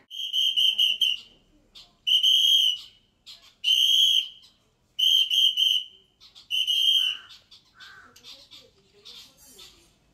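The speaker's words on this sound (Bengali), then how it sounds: "মেসোমশাই বেলা 1টার সময় রোজ এভাবে সিটি বাজিয়ে পাখিদের ডাকে।" A person whistles to call birds at a house in Habra, sounding clear, shrill repeated whistle bursts in a rhythmic pattern with short pauses, followed by a few faint bird calls near the end.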